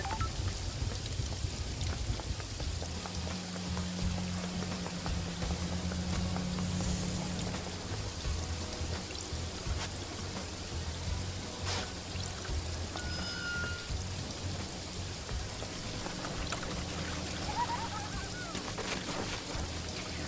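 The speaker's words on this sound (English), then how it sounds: "Why did the rain scare me?" Steady, dense rain hisses from start to finish in the video game Paradise Killer, broad and continuous, with faint low tones and a few brief clicks beneath the downpour.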